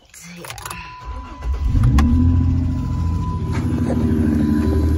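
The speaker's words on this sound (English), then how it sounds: "I'm gonna crank up my boyfriend's car because it's not mine" A boyfriend's car engine cranks and catches around the two-second mark, then settles into a steady, loud idle with a rising rev, close by, with a person talking faintly at the start.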